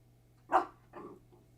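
Two short barks from a dog indoors, a louder sharp one followed by a softer second, with a faint trailing yip and a low steady hum underneath.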